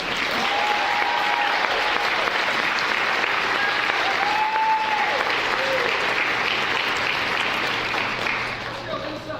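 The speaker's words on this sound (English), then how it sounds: "let's give one more round of applause for the LPN and paramedics to RN 2025" Audience applauding the LPN and paramedic to RN class of 2025 at a ceremony, steady loud clapping with brief voices and whoops over it, tapering slightly at the end.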